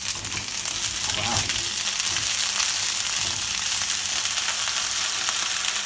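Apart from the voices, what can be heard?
ginger and garlic frying in hot peanut oil in a wok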